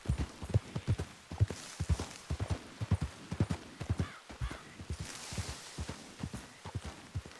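Steady clip-clop of horse hooves walking at an even pace in a Western video game, clear and fairly close, with a faint background hum.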